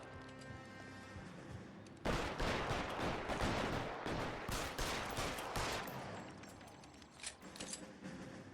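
Rapid gunfire from a shootout in the video game L.A. Noire: a dense, loud barrage of shots with no pause for about four seconds, then sparser scattered shots over a lingering background.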